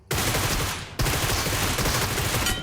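Sustained automatic gunfire from the mobile battle royale game PUBG Mobile, a dense loud burst broken by a short gap near one second, then continuing rapid fire to the end, with no talking.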